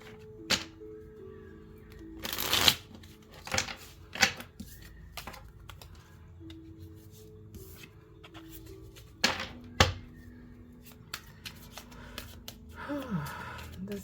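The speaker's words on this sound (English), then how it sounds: "All right, I'm just gonna shuffle and cut it." Tarot cards being shuffled and cut, giving scattered short riffling and slapping bursts of varying loudness, close to the microphone, against a quiet room with faint tones.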